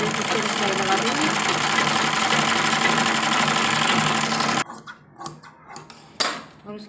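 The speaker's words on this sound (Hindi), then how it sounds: "तो सबसे पहले हम इसके ऊपर एक सिलाई लगा देंगे" A sewing machine runs a stitch along a cloth strip, its motor giving a continuous whirring drone for several seconds before it cuts off abruptly, leaving faint scattered handling noises.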